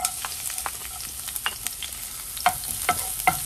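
Chopped garlic sautéing in hot oil in a pan, a close bright sizzle broken by frequent sharp spatters and the scrape of stirring, lively and irregular, with no talking.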